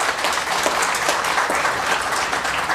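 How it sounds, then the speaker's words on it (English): Audience applause at the opening ceremony of an African philanthropy conference, a steady dense wash of clapping that holds evenly through the short stretch with no voices on top. "Ladies and gentlemen, a final round of applause,"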